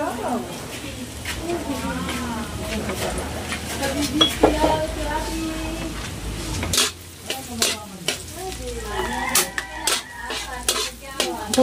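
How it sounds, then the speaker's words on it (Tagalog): Onion and garlic sautéing in a pan, a loud continuous sizzle with stirring and metal clatter of pan and utensils, while people talk over it throughout. "gisa na tayo ng sibuyas at bawang"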